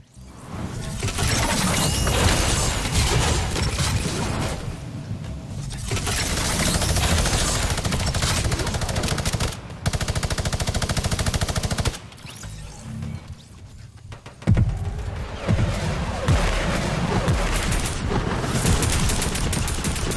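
Sustained gunfire and explosives in the video game Fortnite: dense, loud bursts of shots, crashes and booms that run almost continuously, broken by a few brief drops in intensity, with no voices.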